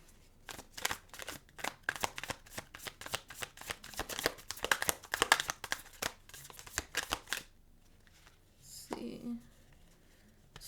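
Tarot cards riffle-shuffled up close in a rapid, crisp flurry of papery flicks lasting several seconds, then a pause and a softer brushing slide of cards near the end.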